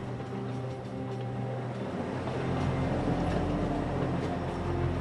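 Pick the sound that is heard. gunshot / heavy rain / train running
train running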